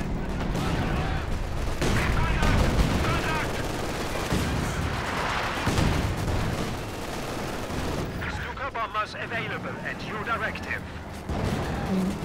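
A mortar barrage in Company of Heroes 2: repeated thumping blasts and scattered gunfire spread through the clip, loud and busy, with a commentator talking over much of it.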